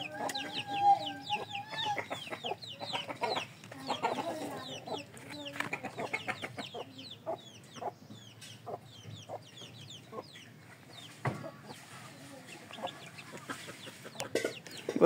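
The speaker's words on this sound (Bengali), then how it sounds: "অনেক মুরগি আছে আমার, দেশি মুরগি" Native desi chickens cluck and chatter in a close, busy flock, with overlapping short calls and occasional louder squawks throughout.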